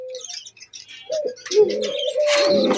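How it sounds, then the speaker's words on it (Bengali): Pigeons, a male and a female pair, calling close by in short cooing and chirping bursts that grow fuller and more continuous toward the end, with no talk over them. "এটা হচ্ছে পায়রা, এই পাশেরটা হয়েছে পায়রি"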